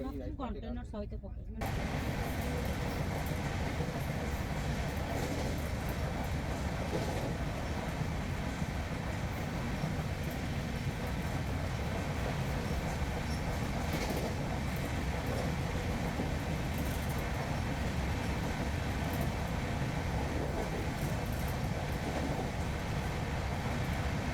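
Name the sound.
Tejas Rajdhani Express train running on rails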